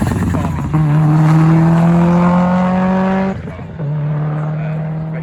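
A Subaru rally car on a stage rally in the East Riding, engine note rising loud and near as it climbs through the gears, a brief drop at each shift, with a commentator talking over it.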